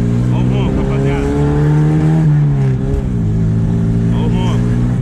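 A newly bought car's engine roars loudly as it revs up through the gears, rising and falling in pitch, with people talking over it throughout.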